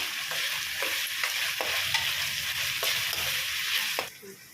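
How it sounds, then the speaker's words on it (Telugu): Onions and green chillies frying lightly in a pan for pasta, a soft constant sizzle with regular scraping stirs, which stop abruptly near the end. No one speaks. "ఇలా వేసుకొని కొద్దిసేపు ఫ్రై చేసుకుందాము"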